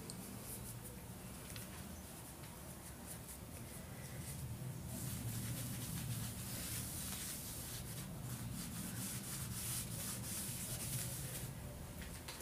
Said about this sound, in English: now I rub the sides away and softly over it